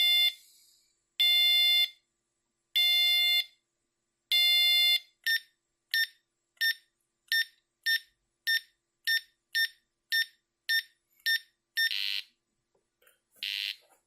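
A Mvario 6 variometer's descent warning: electronic beeping starts as four long tones, then speeds up into a rapid regular series of short beeps, ending with a couple of brief hissing bursts.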